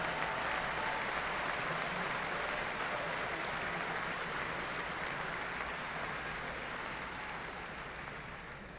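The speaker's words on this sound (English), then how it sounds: "Let's give them a big round of applause for staying home." A commencement audience gives sustained applause, a dense wash of clapping from many hands that holds steady and then slowly fades toward the end.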